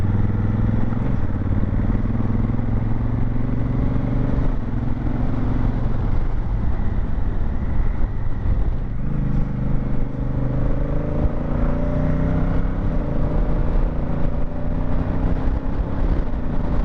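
Honda Africa Twin motorcycle pulling away and moving through first and second gear on a moorland ride, a loud, close engine drone under wind rush with pitch rising and falling as it shifts.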